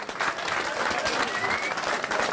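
A reunion crowd applauds the class of 2006, a steady wash of many hands clapping with a faint murmur of voices mixed in, even and continuous across the whole stretch.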